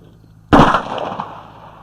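A single sharp gunshot cracks close by, followed by a short echoing decay.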